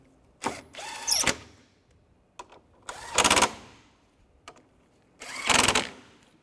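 Screws are driven into a 2004–2010 BMW X3 headlight in three short, loud whirring bursts from a power driver, with faint clicks and handling noises in between.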